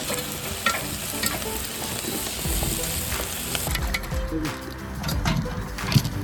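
Onions sauté with chillies and curry leaves in a pan on a boat at sea while crab pepper fry is made, a close, constant sizzle with scraping stirs throughout.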